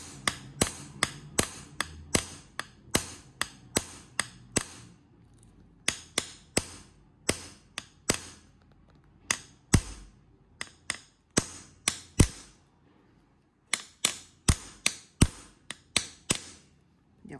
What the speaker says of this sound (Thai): ต้องค่อยๆตอกลงไปนะคะ ต้องค่อยๆตอกให้มันตรงนะคะไม่งั้นเดี๋ยวตะปูมันจะโผล่เนาะ